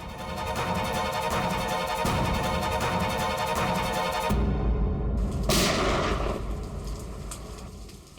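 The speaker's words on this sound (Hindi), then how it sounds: "ये कहीं गोली चली है।" Gunfire somewhere outside during heavy rain, sharp loud reports punching through a constant roar of downpour, with abrupt bursts and shifts over several seconds.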